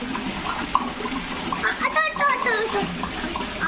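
Water splashes and trickles steadily into a vessel for washing rice during Eid preparations, while voices talk in Tamil over it.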